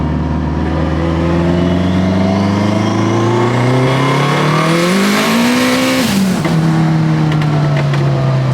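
A fully built Honda Element with a sequential gearbox revs hard under acceleration, its loud engine note climbing steadily in pitch, then dropping sharply after a brief peak and settling into a lower roar.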